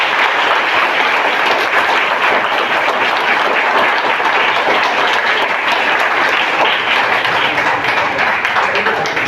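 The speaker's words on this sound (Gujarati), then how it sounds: "તો બધા તાળીઓથી એમનું સ્વાગત" Students at a school guidance event in a hall clap loudly together to welcome a guest, a dense, sustained roar of applause lasting throughout with no pauses.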